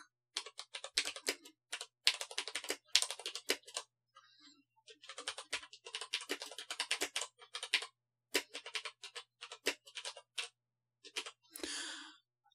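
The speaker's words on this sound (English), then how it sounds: "as you can see, I'm moving the cursor around and I can type" Typing on a computer keyboard connected to an Xbox, close and clear, in bursts of rapid key clicks separated by short pauses, with no talking.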